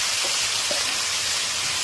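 Marinated local chicken hits hot oil with bay leaf, giving a loud, continuous close-up sizzling hiss with a couple of faint pops and no talking.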